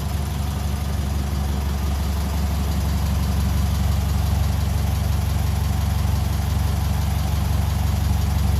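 A 1957 Ferguson 35 tractor with a TVO engine runs steadily at idle, its low, constant throb close and continuous with no breaks.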